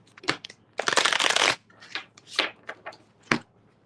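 Tarot cards shuffled by hand up close: a dense riffling burst in the middle, framed by shorter papery snaps and slides of the deck, quiet and irregular.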